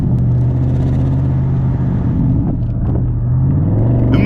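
An Audi RS 6 Avant engine holds a deep, steady rumble close by. Its low tone drifts slightly up and down over a few seconds, with no talk over it.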